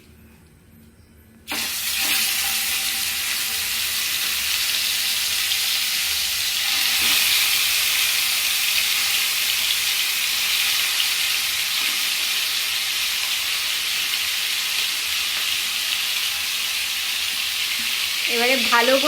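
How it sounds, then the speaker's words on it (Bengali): Chicken leg pieces hit hot melted butter and oil and break into a loud, steady sizzle that holds for the rest of the clip, with no talking. "এবারে ভালো করে ভেজে নিতে হবে।"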